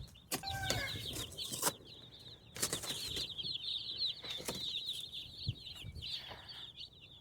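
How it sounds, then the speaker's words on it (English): Baby chicks in a brooder chirp in a dense, continuous high twitter, broken by several louder bursts of rustling and flapping close by. "So we got the chicks home. We got them in the brooder."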